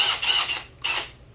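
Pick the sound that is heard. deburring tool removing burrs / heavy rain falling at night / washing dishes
deburring tool removing burrs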